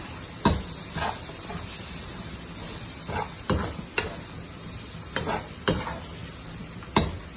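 Minced meat curry frying in a pan with roasted gram powder added, a steady sizzle under repeated sharp scrapes and knocks of a spoon stirring against the pan, with no voices.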